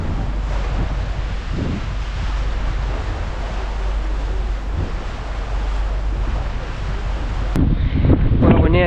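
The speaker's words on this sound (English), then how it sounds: "It's getting quite very chilly and windy now" Chilly wind gusts over open water while heading out of Glacier Bay past tidewater glaciers, a steady broadband roar with surf-like wash near the microphone, ending with a brief closer flutter of buffeting.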